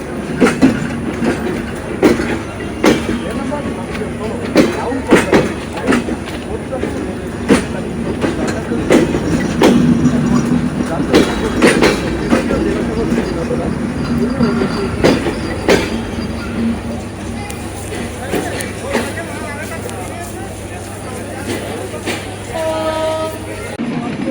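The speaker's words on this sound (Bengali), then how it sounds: "ছেড়ে আসা আন্তনগর কপতাক্ষ এক্সপ্রেস" Kapotaksha Express intercity train running on rails between Khulna and Jashore, a steady loud rumble with repeated rhythmic wheel clatter throughout and brief squeals near the end.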